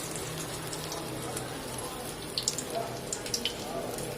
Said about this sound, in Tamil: மெதுவாக இப்படி எண்ணெயில் போட்டுறாங்க.